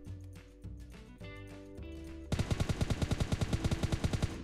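Automatic gunfire in PUBG Mobile on the Miramar desert map: a few scattered shots first, then a rapid, evenly spaced burst of loud, close rifle fire carrying through to the end.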